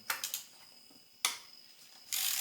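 Ratchet wrench clicking while cracking loose bolts on a BMW M54 engine during teardown: three quick ratcheting bursts, a sharp isolated click, then a steady ratchet run at the end, close and loud with no talking.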